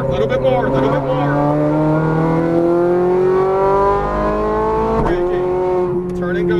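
A Ferrari 430 Scuderia on a race track, its engine droning loudly and rising steadily in pitch under light throttle. The revs dip briefly at a gearchange and then climb again, heard from close by.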